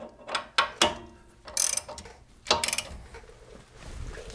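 Close ratchet clicking while snugging up front brake caliper bolts, a few short bursts of rapid pawl ticks separated by sharp metallic knocks and pauses.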